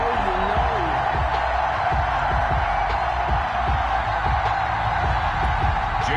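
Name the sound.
stadium crowd cheering in EA Sports NFL video game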